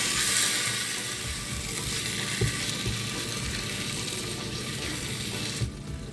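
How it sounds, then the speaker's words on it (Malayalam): Chicken masala for Thalassery dum biryani being mixed in a hot pan: a constant close sizzle with scraping, rattling stirring strokes throughout, without talking. "നന്നായിട്ട് ഇതെല്ലാം കൂടെ ഒന്ന് മിക്സ് ചെയ്യാം."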